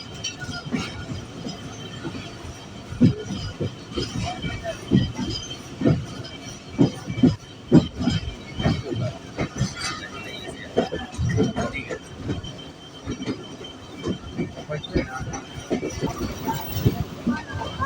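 A Rehman Baba Express passenger train rolls into Kotri station, giving loud rhythmic wheel clatter and rumble with intermittent squeals and bangs heard from aboard the moving train.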